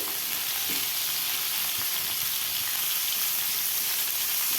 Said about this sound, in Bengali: মাথাটা একটু ভাজা করতে একটু সময় লাগবে